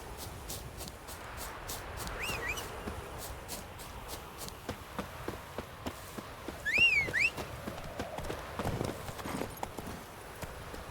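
Geralt's horse Roach from The Witcher 3 trots along with steady, moderately close clip-clop hoofbeats, joined by a few brief whistling in-game sounds, with no talking.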